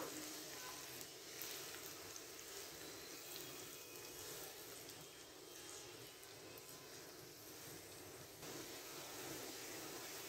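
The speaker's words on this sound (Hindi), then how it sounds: "यहाँ पे हम इनको लाइट सा फ्राई करेंगे।" Onions fry lightly in hot oil in a pan with a soft, continuous sizzle that holds steady and low throughout, with no talking over it.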